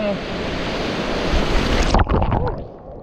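Ocean waves wash through a surf beach in Bali, a loud churning roar with wind buffeting the microphone, then breaking into closer splashing and sloshing near the end.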